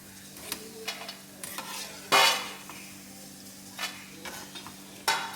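Leftover-rice crisps (rice kondattam) frying in hot oil, with a steady sizzle broken by several scraping stirs and one loud sharp scrape or clatter of a utensil, close up and with no talking.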